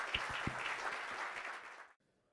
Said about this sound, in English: Big round of applause for Leda